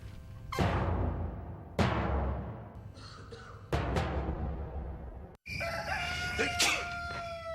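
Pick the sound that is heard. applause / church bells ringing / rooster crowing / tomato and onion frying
rooster crowing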